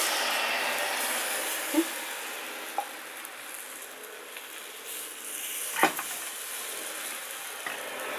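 Takoyaki batter sizzles in a preheated takoyaki pan, a steady even hiss lasting several seconds with a few faint clicks and taps of utensils and no talking.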